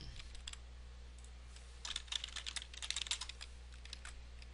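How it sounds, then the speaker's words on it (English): Computer keyboard keys clack in quick irregular bursts over a faint steady hum, sparse at first and then a dense flurry of hard taps, fairly close. "I hope my keyboard's not that loud when I like smash it to type."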